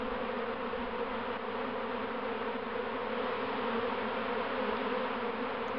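A large honeybee swarm, gathered in a lattice-like cluster during a June collection, fills the air with a dense, steady buzzing that holds at an even level throughout, close and unbroken, with no voices.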